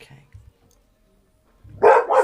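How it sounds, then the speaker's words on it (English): A dog barks twice in quick succession, loud and close, after a near-silent pause following a few faint murmurs. "Sorry, that was my dog."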